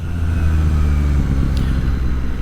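A 2025 Yamaha MT-09 Y-AMT three-cylinder motorcycle engine hums loud and close with a deep, steady drone, then dips and shifts pitch briefly mid-way as a gear change goes through, the engine note resuming without pause.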